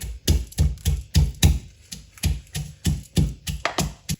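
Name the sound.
pounding whole coriander seeds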